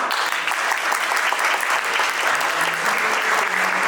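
An audience at a school award ceremony applauds students in a dense, sustained round of clapping that holds at an even level throughout.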